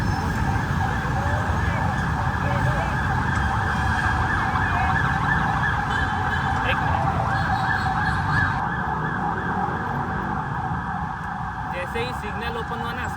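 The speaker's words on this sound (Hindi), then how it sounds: "जैसे ही सिग्नल ओपन हुआ ना, सारे गाड़ी दोनों साइड हो गए एम्बुलेंस को रोड देने के लिए।" An ambulance siren wails steadily through Bangkok traffic, loud and continuous over the low rumble of vehicle engines, with no speech.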